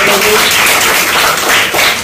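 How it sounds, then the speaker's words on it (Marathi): Students clapping to welcome a guest at a journalists' association event distributing school supplies at a village school, a steady dense patter of hands sustained through the whole moment, fairly loud and close. "नितीनजी जोशी साहेब यांचं पण मी विद्यार्थ्यांना टाळ्या वाजवून स्वागत करतो"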